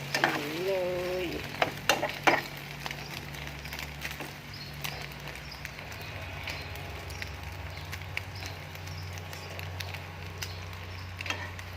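Steady sizzling and bubbling of an egg frying in hot oil, with a few clatters of a utensil near the start.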